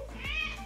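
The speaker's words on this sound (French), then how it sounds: "T'as un chat affamé?" A hungry cat gives a single short meow, close and clear, with nothing else around it.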